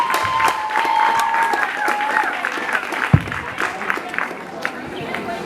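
A crowd claps in a scattered, moderate round of applause at a secondary school graduation, with murmuring voices and some background chatter mixed in.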